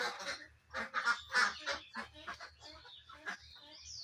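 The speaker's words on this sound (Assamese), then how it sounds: "মোৰ হোৱাইট বেজিন হাঁহ ইয়াতে 70টামান আছে" White Pekin ducks in a flock of about seventy give repeated, close quacks and honking calls in short overlapping bursts, with brief pauses between them.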